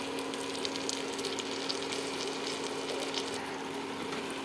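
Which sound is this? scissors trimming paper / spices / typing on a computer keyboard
spices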